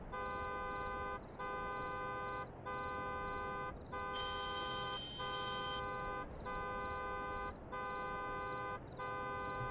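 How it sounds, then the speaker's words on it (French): A car horn blares repeatedly in a horror video game set in a cemetery at night with rain, sounding in long, evenly spaced toots with brief gaps, steady and fairly loud. "On entend klaxonner."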